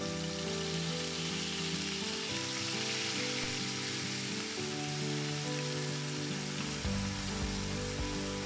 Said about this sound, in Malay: Gunakan sedikit daripada minyak gorengan ikan untuk menumis.